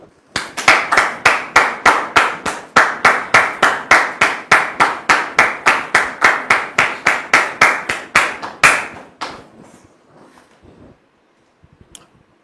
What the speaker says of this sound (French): Nous allons donc recevoir Dame Lydie sous vos applaudissements